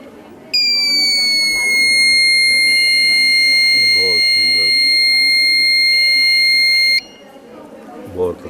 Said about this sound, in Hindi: ये बजर फिर साउंड करने लगता है, जिससे हमें पता लगता है कि कई बिल्डिंग में फायर लगी है।